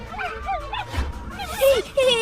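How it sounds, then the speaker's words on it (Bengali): Cartoon dog yelping and whimpering in pain after being beaten in a Bengali animated story, a few rising and falling high cries over background music and other sounds. "কুকুরটা চিৎকার করতে থাকে তখন।"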